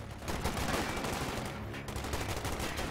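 Machine gun fire in Company of Heroes 2 rattles in dense, continuous bursts, loud and close, with layered battlefield gunfire and no talk.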